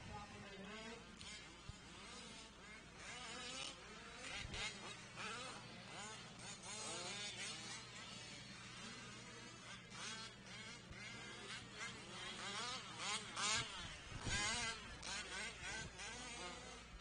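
Radio-controlled model cars racing around a track, many high whining motors buzzing and swelling as they pass, heard continuously through an open window with some voices mixed in.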